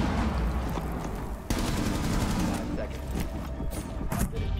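Gunfire in the Rainbow Six Siege video game: repeated sharp shots and bursts crackle through a busy game mix, with a loud burst partway through and scattered shots after.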